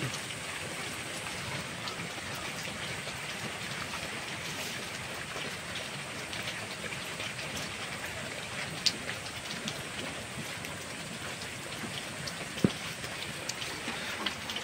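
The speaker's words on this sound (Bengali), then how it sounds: "বৃষ্টি নেমে এলো।" Rain falls steadily over a village, a soft, even hiss with no talking and only a couple of faint ticks and taps, distant and fairly quiet.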